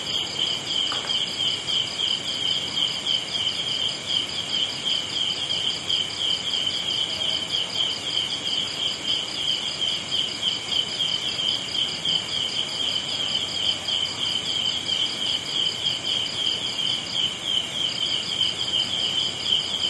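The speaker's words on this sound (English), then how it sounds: "We can use those lovely crickets to keep the mind here." Crickets chirp continuously in a dense, steady high-pitched pulsing chorus, with no voices or other sounds over it.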